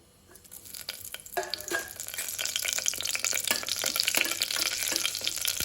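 Whole spices such as fennel, cumin, cinnamon, cloves, star anise and bay leaf frying in a pot for methi matar pulao, starting quiet and swelling into a steady, close crackling sizzle with a few clinks.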